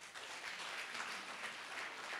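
A church congregation clapping together during a pastor's sermon, a fairly even, moderately quiet patter of many hands that carries on steadily without talk.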